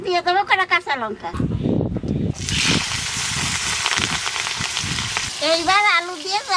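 Green chillies and cumin seeds hit hot oil left from frying fish, bursting into a loud, steady sizzle that runs for several seconds, with someone talking before and after it.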